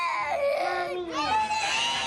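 A small child having a bedtime temper tantrum screams and cries close by, a high wavering wail that dips briefly and then rises again into another shrill cry.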